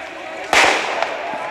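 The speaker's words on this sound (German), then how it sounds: "der nächste Böller" A single sharp firecracker bang goes off at a street protest against the AfD party conference in Magdeburg, cutting abruptly through steady crowd background noise and then dying away.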